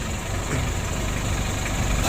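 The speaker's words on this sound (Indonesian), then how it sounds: "untuk mesin L300 nya sudah selesai lor. Ini yang kita bongkar lalu kita rakit, alhamdulillah sudah hidup." A rebuilt Mitsubishi L300 diesel engine idles after reassembly, a steady close rumble with an even clattering pulse, loud and unchanging throughout with no talking.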